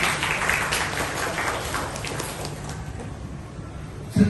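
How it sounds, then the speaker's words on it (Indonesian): An audience applauds for Kanisya at an education talk, a moderate spread of clapping that is fuller at the start and thins out gradually, ending with a short louder knock. "Oleh tepuk tangan buat Kanisya."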